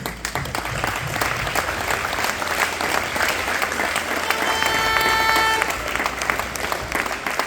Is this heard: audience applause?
yes